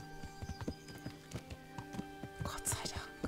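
Horse hooves clip-clop in a steady rhythm in the medieval video game Kingdom Come: Deliverance, with a faint whispery voice and soft game ambience underneath.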